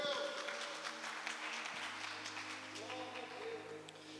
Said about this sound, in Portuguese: Você pode aplaudir essa palavra em nome de Jesus?